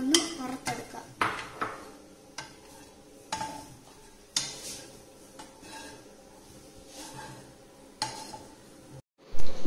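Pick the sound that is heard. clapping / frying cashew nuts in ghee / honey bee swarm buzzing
frying cashew nuts in ghee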